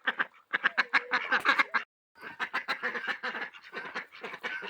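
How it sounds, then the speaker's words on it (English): Farm ducks, three females and four males, quack in loud, rapid repeated bursts at close range, with a brief pause midway before the chorus of quacks resumes. "So we use these ducks for pest control, eggs, and fertilizer."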